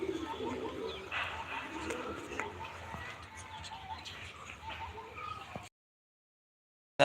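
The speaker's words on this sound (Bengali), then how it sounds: "বন্ধুরা এই পায়রাগুলো উঠছে দেখুন" A flock of pigeons lifts off on their first day of flying, with soft cooing in a steady outdoor wash of noise while someone talks over it.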